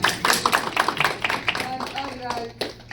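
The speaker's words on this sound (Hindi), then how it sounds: "तालियां हो जाए इस बात पे।" An audience claps at a Capital Care gathering, a short burst of distinct, irregular hand claps that fades after a couple of seconds as a voice talks over it.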